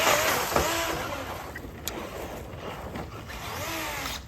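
A Traxxas Maxx RC truck drives through rough ground, its electric motor whining loudly and steadily at close range, with its pitch rising and falling as the truck speeds up and slows.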